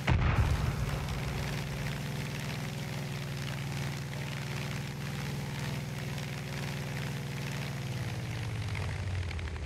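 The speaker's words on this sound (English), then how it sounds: "Oh shit, this thing has rockets!" Vehicle-mounted rockets fire and explode in the Far Cry 5 video game, a loud booming burst at the start followed by a sustained roaring engine drone that holds steady for several seconds, with no talking.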